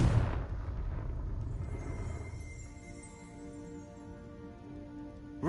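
The Confringo explosive fire spell in Hogwarts Legacy lands as a loud, booming blast that rolls away over several seconds, with a held musical tone rising underneath as it fades.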